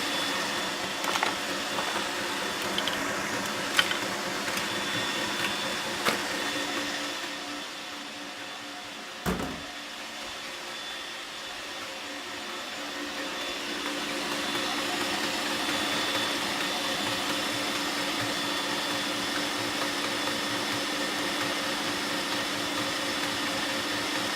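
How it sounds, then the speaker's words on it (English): Electric mixer whisking egg whites at high speed for Baked Alaska, a steady whirring motor drone running continuously and fairly quietly throughout, with a brief knock partway through. "So there's our egg whites separated. Whack them in a mixer. Really fast whisk"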